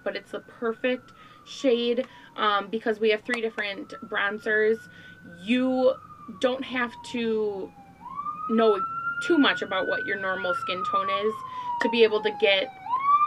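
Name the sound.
emergency vehicle sirens passing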